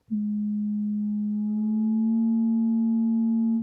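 A sustained pure tone from an analogue synth using FM holds a steady low pitch, then steps slightly higher partway through and stays there, clean and even for several seconds.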